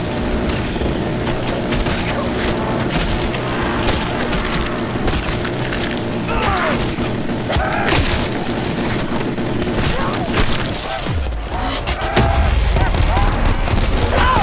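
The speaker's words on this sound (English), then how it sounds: "Who does not love grenade launcher sound?" A grenade launcher in the video game Black Ops 4 fires among dense, loud combat noise, with repeated booms, sharp cracks and splintering blasts layered over a constant battle din.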